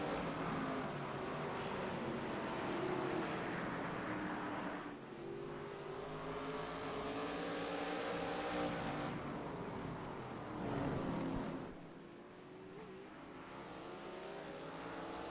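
NASCAR stock car engines roar around the Sonoma road course in the iRacing video game, a continuous droning blend of revving motors rising and falling as cars accelerate and brake, fairly faint and steady throughout.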